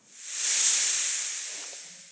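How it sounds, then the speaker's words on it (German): A snake hisses in one long, steady, airy breath that swells and slowly fades, close and fairly loud with nothing else around it. "Die Schlange zischt."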